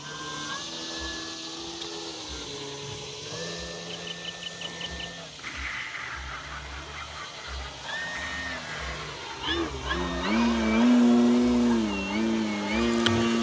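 An FMS Pitts 1400mm RC airplane's electric motor whines steadily at about three-quarter throttle, its pitch shifting and briefly cutting out before swelling louder near the end, with faint voices in the background.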